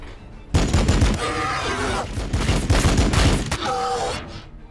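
Rapid gunfire bursts in the Warhammer 40k Battle Sector video game, loud and dense, with several volleys in quick succession and short gaps between them.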